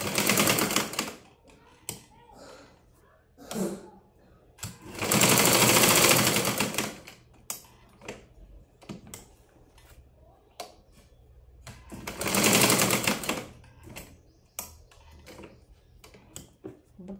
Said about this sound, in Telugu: ఇప్పుడు కాజా పట్టికి అయితే మిషన్ కాజాలే వేసుకుంటున్నాను నేను